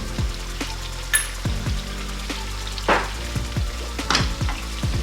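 Egusi and spinach stew simmering as boiled kako and shrimp powder are added, a steady close sizzle and bubbling with occasional soft stirring scrapes and small splashes, no talking.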